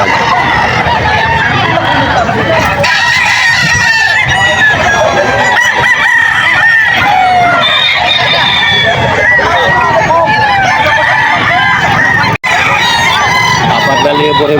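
A stag rooster crows repeatedly among many other crowing and clucking chickens at the crowded Bocaue poultry market in Bulacan, loud and continuous under a babble of voices.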